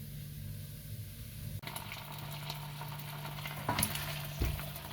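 Pork longganisa fries in a pan with no oil, a soft steady sizzle and hiss close by with a low hum beneath and a couple of faint clicks.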